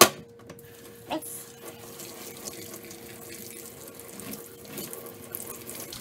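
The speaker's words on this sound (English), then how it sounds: "you're rinsing it off real good" Tap water runs steadily into a sink while running shoes are rinsed underneath, a continuous splashing hiss with a few brief knocks and splatters, close and alone.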